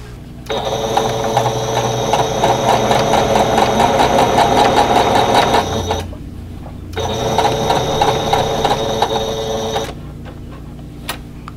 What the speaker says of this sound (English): So let's go sew these together.